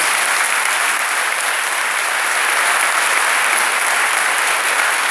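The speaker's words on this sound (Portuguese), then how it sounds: "Pode aplaudir, é bom demais" Loud, dense applause from a large audience at the 33rd-anniversary celebration of the Grupo Esperança charismatic renewal group, a steady roar of clapping that runs unbroken from start to finish with no voices above it.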